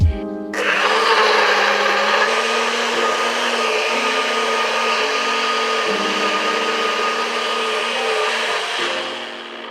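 A countertop blender whirs loudly and steadily, blending an avocado milkshake made with milk; the motor starts abruptly, holds a dense broadband roar with slight pitch shifts as the thick mixture churns, then winds down at the end, with no talking.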